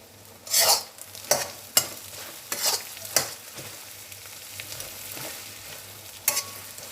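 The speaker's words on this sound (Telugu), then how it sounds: "క్యారెట్ పచ్చిమిర్చి తరుగు, క్యాబేజ్ అన్నీ కలిసేలా మంచిగా కలుపుకోవాలి." A spatula scrapes and stirs chopped carrot, green chili and cabbage in a pan for egg noodles, giving a handful of sharp scraping strokes over a quiet sizzle, close and without talk.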